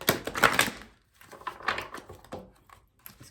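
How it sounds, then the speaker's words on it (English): Stiff oracle cards being shuffled by hand, giving bursts of papery riffling and flicking, a dense flurry at first, then a pause and several shorter, softer rustling passes close by. "These cards are not easy to shuffle."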